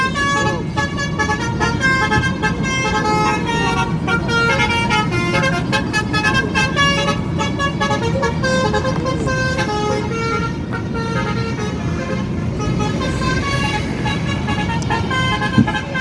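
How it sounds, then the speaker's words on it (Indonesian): A Gumarang Jaya bus honks as it leaves Borosolo terminal, with repeated horn toots over steady engine and traffic noise and continuous music or voices underneath. "Bus Gumarang Jaya terbaru Nopin 52 Putra Kembar meninggalkan Terminal Borosolo menuju Jakarta"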